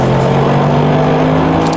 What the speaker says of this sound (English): this is the Rocket Brabus exhaust without the downpipes